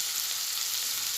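Onions and tomato pieces frying in a pan for an amla (usirikaya) curry, giving a steady, even sizzle with a bright hiss that holds at constant level throughout, close and alone with no talk.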